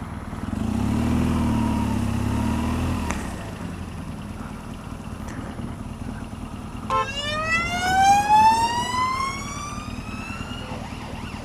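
Ambulance siren on a rainy commuting road rising into a loud wailing sweep that climbs and falls as it passes close by, following a stretch of low traffic rumble and engine noise.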